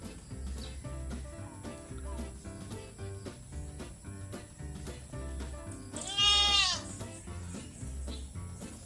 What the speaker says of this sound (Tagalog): Good morning, goats.